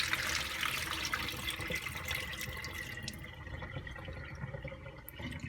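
Water drains steadily out of a Bosch WFL246SGB/01 washing machine after an easy care 40 degree test wash, a continuous close splashing trickle with faint drips and no talking.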